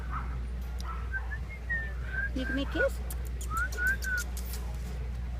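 A pet bird whistles a series of short rising and falling notes, close to the microphone, with someone speaking softly to it between the whistles.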